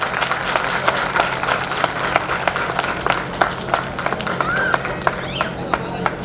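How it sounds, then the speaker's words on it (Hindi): Applause from a small audience at a Dr. Ambedkar Jayanti 2019 event as participant Miss Pushpa Singh receives a medal, a run of sharp separate claps and scattered handclaps over a low murmur of crowd voices. "जोरदार तालियां।"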